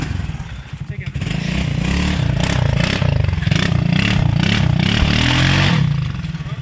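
Loud, close engine revving of an Apachi 4x2 ATV churning through sand, a throbbing motor rising and falling with scraping clatter, and a voice speaking over it.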